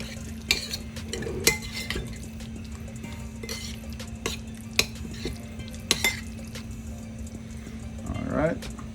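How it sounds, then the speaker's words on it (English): Green seasoning, salt and pepper being stirred into a salmon Alfredo fettuccine sauce in a pan, with scattered spoon scrapes and clinks over a steady low hum, and a voice speaking near the end. "I'm just going to go ahead and mix that all in"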